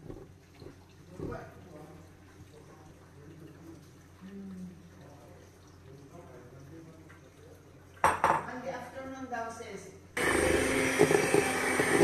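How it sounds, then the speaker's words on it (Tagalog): Butter being mixed in a bowl for a chocolate moist cake, with utensils clinking and scraping against the bowl, a louder burst of mixing near the end, and voices talking in the background. "minix na rin po natin ang ating butter"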